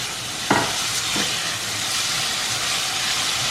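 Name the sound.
stirring and frying onion and tomato in pan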